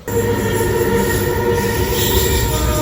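A passenger train runs on rails on a journey toward Raichur Junction in India, with loud continuous rumbling, rattling carriages and high wheel squeal heard up close from on board.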